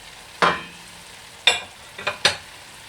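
Grated carrot and blitzed mushrooms stirred in a hot pan for a vegan, gluten-free nut roast, giving four sharp scraping strokes with a faint sizzle between them, close and without talk.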